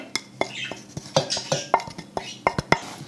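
Marinated ingredients for a meatless beef-style curry are kneaded by hand in a bowl: a steady series of close, sharp clicks and soft squelches, roughly two or three per second, with occasional light clinks against the bowl.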